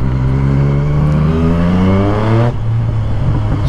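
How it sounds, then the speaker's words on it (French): Yamaha MT-09 motorcycle engine revving up loudly and close, its harmonic tone climbing steadily before dropping sharply as the throttle is released, then settling back to a lower drone. "Le moteur, il est juste incroyable"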